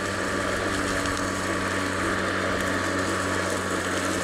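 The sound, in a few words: Atlas 80V cordless lawn mower running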